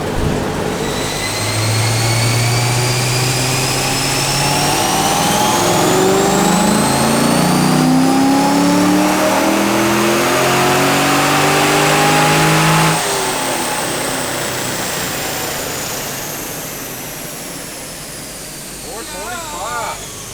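Corvette Grand Sport with a manual-gearbox LS3 V8, revving loudly nearby in rising and falling sweeps with a rumbling exhaust, easing off toward the end.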